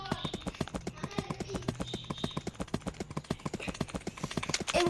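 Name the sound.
horse hooves clip-clopping in a video game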